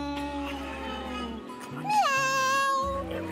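A person's voice imitates a cat's meow, with a rising, drawn-out mew following some brief speech-like sounds.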